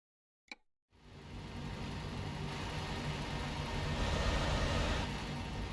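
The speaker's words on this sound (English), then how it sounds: "I actually can turn down the truck noise" A truck engine in Euro Truck Simulator 2 rumbles steadily after a brief click, holding a continuous low drone that swells slightly in loudness, with no talking.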